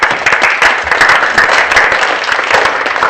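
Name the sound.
audience applause for staff members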